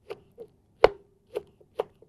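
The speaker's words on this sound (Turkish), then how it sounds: "şöyle ufak ufak doğrayabilirsiniz" A knife chops through leek on a board in four or five sharp, separate cuts, one noticeably louder, with brief quiet gaps between them.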